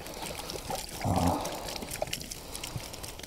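Water poured from a container onto a campfire to put it out, a brief close splash and hiss about a second long amid outdoor background noise.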